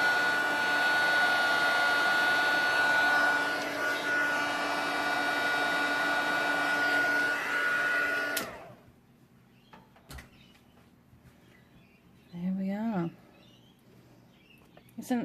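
A heat gun blows with a steady whirring hiss for about eight seconds while gold embossing powder is melted on a card, then cuts off sharply, leaving a quiet room with faint clicks and a short murmur.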